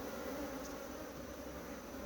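Honey bees at an open hive in Guyana fill the air with a dense, continuous buzzing, soft but steady throughout with no voices.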